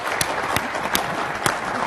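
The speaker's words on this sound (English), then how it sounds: "Oh, we'll clap now." Audience applause at a global health investment meeting, steady clapping from a crowd in a hall, even and sustained, with a few sharper individual claps standing out.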